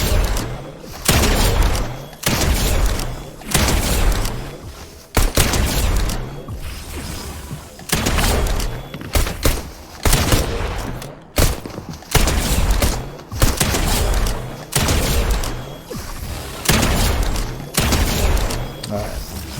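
Gunfire from a gun in a video game cracks in rapid bursts of loud, close shots, separated by short pauses, with thumps and mechanical clicks between volleys.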